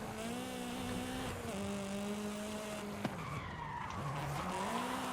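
A race car drifts in Forza Horizon 5, its engine droning at a steady pitch that slides down and back up while the tires squeal continuously through the turn.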